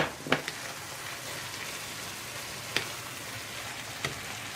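Butter melts in a pan of browned minced meat with a soft, steady sizzle and a few faint clicks and taps, no voices.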